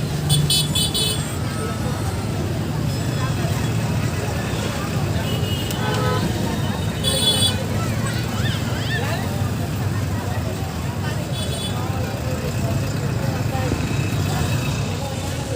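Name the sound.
large 308-wheel truck passing through toll plaza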